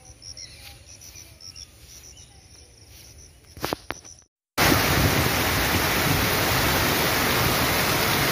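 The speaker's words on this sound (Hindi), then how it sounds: "आंधी तूफान आ रहा है पानी बारिश सुबह सुबह इतना जोर शोर से आया है" A heavy early-morning rainstorm in rural Nepal during the rice season: faint insect chirping and quiet surroundings, then a sudden cut to loud, dense, steady hissing rain pouring close by.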